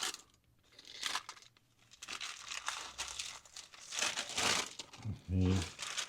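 Crinkling and rustling paper as a Subway Philly-style three cheese steak sub is unwrapped from its paper wrapper. The crackle comes in bursts close to the microphone, mixed with a person talking.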